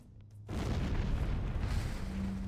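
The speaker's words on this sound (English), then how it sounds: "That should be enough to trigger a wildcat explosion of the engines." A reactor engine explosion in the Halo CE video game bursts in after a quiet moment, then becomes a loud, sustained rumbling roar that fills the rest of the clip with no talking over it.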